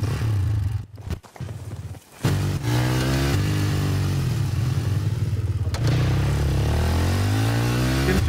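A motorcycle engine in a video game revs and roars up close with rising and falling pitch, broken by a few brief clattering drop-outs early on, then settles into a steady loud drone with further revving.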